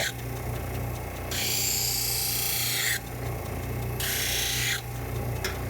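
An eyeglass lens is filed by hand with a file, heard as two long, loud, close rasping strokes separated by a short pause.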